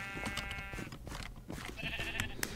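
Sheep bleating in an arcade video game: a few wavering bleats over busy game music and sound effects, with no talking.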